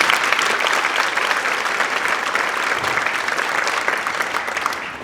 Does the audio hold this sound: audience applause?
yes